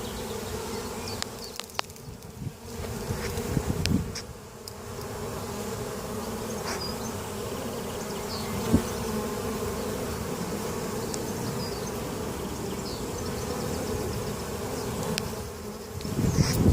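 Honey bees buzz around a spring-cleaned beehive with a new floor and brood box, near a field of oilseed rape. A steady, dense hum of many bees goes on throughout, with a few louder individual bees passing close.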